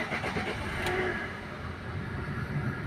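A Chevrolet Sail petrol car's engine idles after starting, a low steady rumble with a faint rattle, heard up close with no talk.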